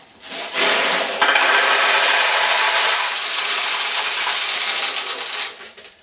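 Metal balls pour into the supply tray of a Daiichi single-ball pachinko machine, a loud dense rattling cascade that starts abruptly, holds for about five seconds, then tapers off.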